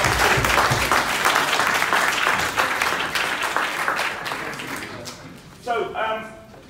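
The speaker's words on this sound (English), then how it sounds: "Round of applause." A crowd at a mental health and suicide performance project claps in a sustained round of applause that slowly fades, with voices talking over it and a louder spoken burst near the end.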